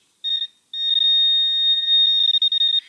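A metal detector on a beach gives a steady high-pitched electronic tone close up, cutting out briefly once, then holding before stuttering into choppy bursts at the end.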